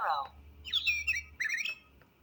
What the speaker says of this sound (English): The sparrow likes to sing.